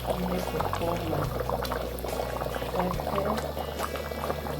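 Liquid pours into a pot of boiling Nigerian banga soup while the pepper sauce goes in, a bubbling, gurgling wash close by with a low background hum and no talk.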